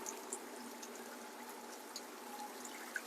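Water spills over the spillway of a small garden water feature, giving a soft, continuous trickling and splashing wash with faint bubbling and no voices.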